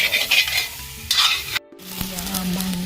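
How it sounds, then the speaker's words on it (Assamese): Meat sizzles and roasts as fat drips out, a bright crackling hiss close by that breaks off briefly and then returns as a steadier fry. "পুৰা তেল ওলাইছে মাংস পুৰা ধুনীয়া"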